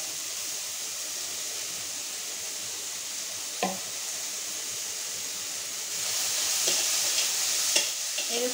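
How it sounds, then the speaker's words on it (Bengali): Vegetables fry lightly in a little oil for a quick sandwich, giving a soft, steady sizzle with a few sharp clicks of utensils against the pan, growing slightly louder toward the end. "তো সবজিটা দিয়ে দিলাম সামান্য তেলে, একদম হালকা"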